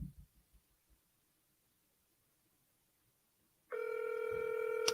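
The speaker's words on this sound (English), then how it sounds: "Some better answer their dang phone." A telephone line ringing or signalling on a real estate cold call, a steady electronic tone that starts abruptly near the end after a few faint low thumps, loud and alone.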